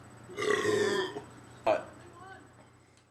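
A loud, drawn-out burp lasting about half a second, followed by a shorter second eructation, both close up against quiet room tone during a casual group chat.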